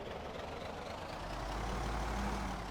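In the video game Project Zomboid, a car engine idles with a low, steady rumble, deepening slightly after a moment, with no voices.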